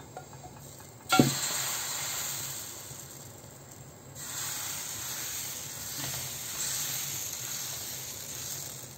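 Patishapta pitha batter hitting a hot wok, a sudden close splat followed by steady frying sizzle and hiss that swells louder partway through and continues alone.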